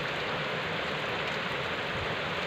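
Steady rain falls outdoors, a dense, even hiss with no breaks or other sounds rising above it.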